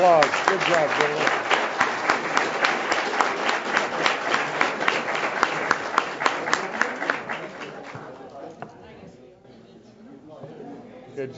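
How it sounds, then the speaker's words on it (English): A school board meeting audience gives a sustained round of applause for a championship team, many hands clapping steadily and fairly loud for about eight seconds before tapering off into quieter room noise and brief talk. "Let's give another round of applause"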